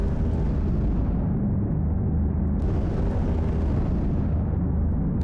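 A gunship firing over Afghanistan in Project Gunship, a steady, dense roar of heavy cannon fire and explosions with no pauses, loud and close throughout.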